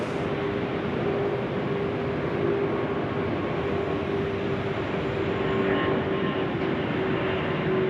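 A plane takes off from Sydney Airport at night, a steady distant jet roar with a faint sustained whine, fairly quiet and unbroken throughout.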